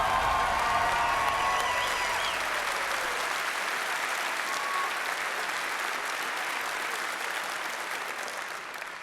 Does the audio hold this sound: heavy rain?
no